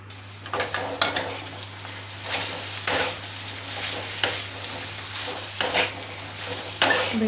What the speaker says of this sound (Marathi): आणि आता भेंडी टाकून घेऊया आपण त्याच्यामध्ये।